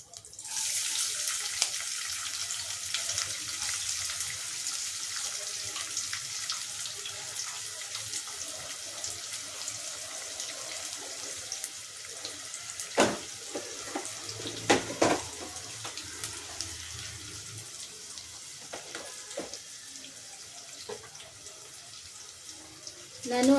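Onions sizzling in hot oil for tempering a village-style chicken fry, a steady hiss of frying throughout with a few sharp clinks of utensils in the middle.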